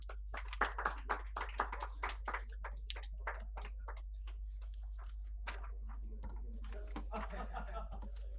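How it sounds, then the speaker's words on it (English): Scattered hand claps from an audience at a nutraceuticals summit awards ceremony, a few sharp claps early on fading into a busy room murmur with talk toward the end. "many congratulations and a round of applause for all the awardees"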